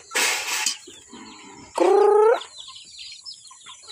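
A chicken clucks and squawks close by, one drawn-out harmonic call standing out after a burst of rustling noise.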